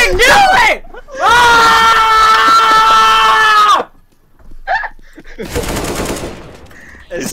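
Gunfire in a tactical shooter video game, sustained automatic bursts from an enemy teammate, loud and close, broken by short pauses, with a player's shouting mixed in.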